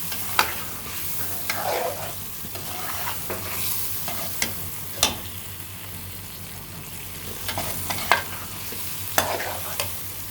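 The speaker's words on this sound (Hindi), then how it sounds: "अब मैं इसमें इनको भी 2 से 3 मिनट तक हम फ्राई कर लेंगे।" Washed green peas fry and get stirred in a pan for vegetable pulao, giving a steady soft sizzle broken by sharp clinks and scrapes of the spoon against the pan, close and continuous without talk.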